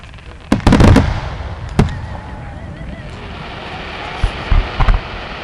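Fireworks go off outdoors in Decherd, Tennessee: sharp, loud bangs early on, another single blast, then a later cluster of pops over a low, constant rumbling background.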